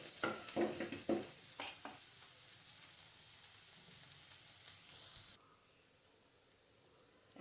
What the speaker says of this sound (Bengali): বেশি নাড়ানাড়ি করব না, আস্তে আস্তে করে নাড়বো